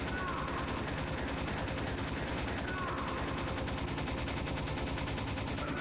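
Fairly quiet, steady stream of rapid automatic gunfire in Metal Gear Solid runs without a break from start to finish, its evenly spaced shots forming a continuous mechanical rattle.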